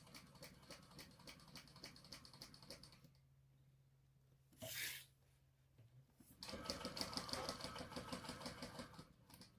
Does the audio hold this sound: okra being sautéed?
no